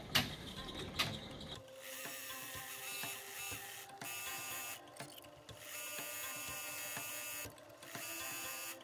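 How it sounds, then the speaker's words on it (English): Embroidery machine stitching out a design for a pumpkin hot pad, giving a steady mechanical whir with rapid ticking needle strokes. A few brief louder clicks come near the start, and no one talks. "So I'm just gonna get right into stitching out the main design of the pattern."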